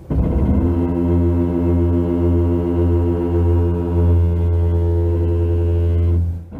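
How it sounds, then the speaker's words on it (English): Kia EV6 brakes give a long, steady, low groaning drone while the electric car creeps along in traffic, loud and continuous with no talk over it. "this car makes a weird groaning sound from its brakes"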